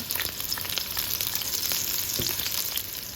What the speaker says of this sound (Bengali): দিয়ে দিচ্ছি কিছুটা অলিভ অয়েল তারপরে পেঁয়াজ একটু লবণ